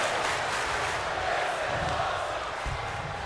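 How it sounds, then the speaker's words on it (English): Wrestling crowd at an XFW digital wrestling event chanting "This is awesome," a dense, roaring arena mass of voices with rhythmic swells, sustained and fairly loud throughout. "The crowd with a "This is awesome" chant."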